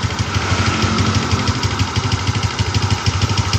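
A vehicle engine idling during a radiator flush with Coca-Cola, a close, steady rhythmic chugging pulse with a dense mechanical rattle, running alone throughout.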